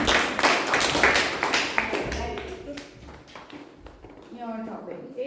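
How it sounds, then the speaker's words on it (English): Applause for a speaker at a Toastmasters club meeting: a loud, brisk patter of clapping that fades after about two seconds, then people talk over the room's background. "Round of applause for Anurag,"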